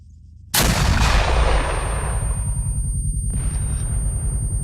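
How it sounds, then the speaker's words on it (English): A single M3 MAAWS recoilless rifle shot in ArmA 3, fired at a vehicle. One sudden loud blast with a long rolling rumble, followed a few seconds later by a fainter distant impact. "Firing, BACKBLAST clear."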